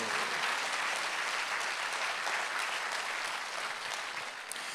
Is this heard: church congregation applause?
yes